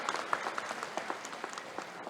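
Audience clapping at a classical dance academy celebration event, a short burst of moderate applause from a seated crowd in a hall, steady and fairly close.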